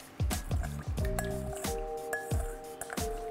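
Runny instant halwa mix, thinned like water, poured into a cooking pan gives close, wet squishing splats and drips in several quick bursts, with no talking.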